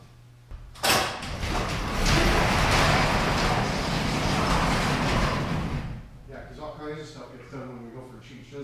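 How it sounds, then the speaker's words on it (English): A door swings open from a smoke-filled room onto blustery, windy weather outside, bringing a loud, steady rush of air that lasts several seconds before dropping away as people start talking. "we should open the door"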